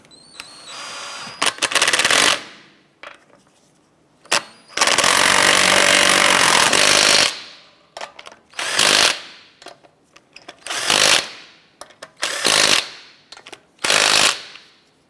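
An impact tool snugging down lug nuts on a 2004-2008 Acura TL wheel, loud close bursts, one long whirring run followed by several short rattling hits separated by pauses.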